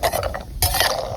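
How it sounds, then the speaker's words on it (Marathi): Turmeric roots fry in oil in a pan on a wood-fired stove, heard as close, busy clattering and scraping of the pieces being stirred, with a faint sizzle underneath. "हळकुंड भाजायचं चाललंय मस्तपैकी. भाजायचं नाही, तळायचं चाललंय."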